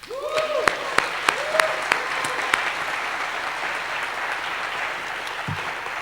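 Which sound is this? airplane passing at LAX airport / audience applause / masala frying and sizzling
audience applause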